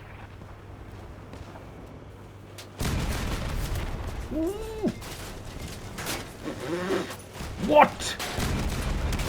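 Gunfire from vehicles in a Crossout battle, low rumbling bursts and booms running steadily under someone talking over it.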